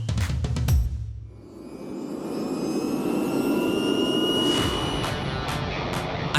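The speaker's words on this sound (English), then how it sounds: "we also brought in some exciting new acts, like the jet-powered paramotors from the UK" Jet-powered paramotor engine from the UK roaring at an air show and balloon festival, a loud steady turbine whine with a broad rushing roar that dips briefly near the start then holds strong and close throughout, no talk.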